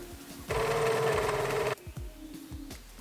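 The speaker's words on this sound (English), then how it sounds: "Sewing up the side seams." A sewing machine runs a side seam on a summer dress in a steady, close whir lasting just over a second, with quiet ticking and handling sounds before and after.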